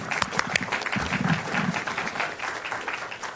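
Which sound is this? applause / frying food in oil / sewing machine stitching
applause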